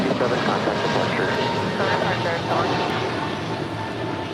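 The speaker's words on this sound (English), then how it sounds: "That is American Airlines 497 departing to Philly. Brand new Airbus A321neo." A brand-new American Airlines Airbus A321neo departs at Los Angeles International Airport, its jet engines making a steady broadband roar heard at a distance, while people talk over it.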